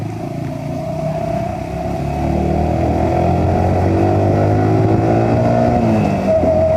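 A motorcycle running low on petrol drones steadily up close, its engine note shifting and slightly uneven as it labours along without any talk.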